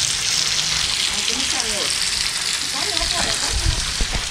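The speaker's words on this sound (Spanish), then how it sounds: "Y ya está la comadre friendo el pescado." Fish and shrimp frying in oil over an outdoor fire for a Guatemalan fried seafood dish, a steady close crackling sizzle with faint voices murmuring underneath.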